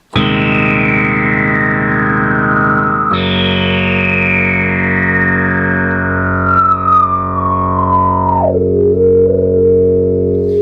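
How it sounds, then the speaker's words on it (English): A Moog Opus 3 synthesizer tone whistles and sweeps steadily downward in long glides, its self-oscillating Moog filter singing over a buzzing, distorted drone. "This thing has a classic Moog filter. As you can hear, it self-oscillates really nicely."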